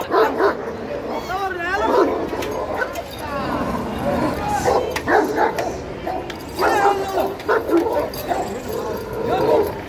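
A fierce dog at a market yelps, whines and barks in repeated close bursts, with people talking loudly around it throughout.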